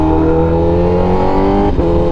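Honda Fireblade SP 1000cc superbike engine running loud and close, a steady high-revving drone with a brief dip in pitch near the end, with no talking.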